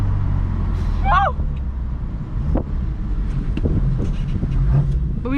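A 2018 BMW M4 on the move gives a steady low exhaust drone with wind rumble throughout, heard from inside the car, with a few brief squeaks and faint voices over it.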